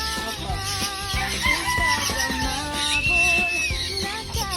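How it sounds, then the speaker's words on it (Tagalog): Chickens cluck and a rooster crows among other fowl, a busy, continuous chorus of bird calls close by with no talking. "May alaga rin kayong mga ibon."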